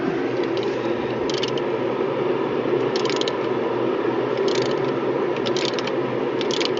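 A ratchet turns repeatedly while tightening a part on a 2006 Chrysler 300 engine during a water pump and timing belt job, a steady run of close mechanical clicking with rhythmic bursts of pawl ticks.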